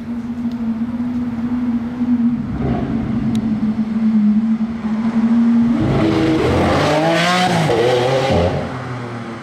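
Aston Martin Valiant supercar nearby, engine droning steadily at first, then a quick downshift blip and a rising, loud acceleration roar as it pulls away.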